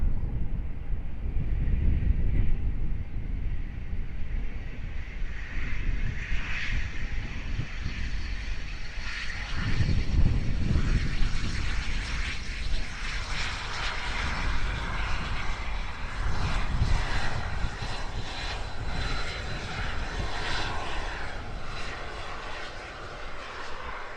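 An Embraer Phenom 300 business jet operated by NetJets passes during plane spotting at sunrise, its steady engine roar sustained and fairly loud throughout, with wind buffeting the microphone and no talk.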